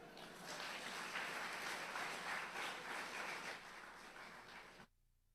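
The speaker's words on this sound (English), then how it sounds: "Another round of applause" A crowd applauds steadily for several seconds, a wash of many hands clapping that stops abruptly near the end.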